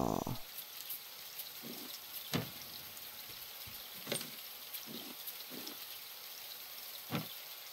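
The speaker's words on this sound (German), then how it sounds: "Regen." Rain falls steadily in the survival game Raft, a soft faint hiss with occasional louder drops and splashes, heard alone without talk.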